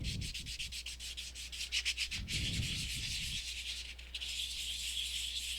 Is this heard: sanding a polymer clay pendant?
yes